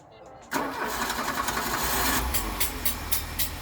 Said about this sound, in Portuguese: Ele tá com o motor ruim.